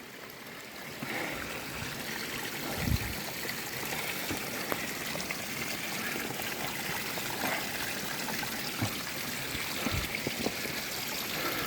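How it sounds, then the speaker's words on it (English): Spring water running out from underground beside a cracked road, a steady continuous trickling flow close by with no voices. "It's not running down off, it's running out from underground."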